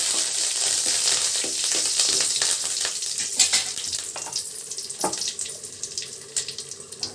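Dried red chilies and curry leaves hit hot oil with mustard seeds for an Andhra-style tomato rasam, giving a loud, close, continuous sizzle that crackles and pops, fading slightly toward the end, with no voices.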